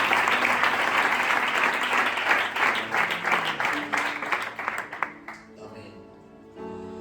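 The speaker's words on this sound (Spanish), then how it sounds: "Dale un fuerte aplauso al Señor" A church congregation gives strong applause to the Lord during a Spanish-language service, loud and dense clapping with voices mixed in that thins out after about five seconds as talk and ringing tones take over.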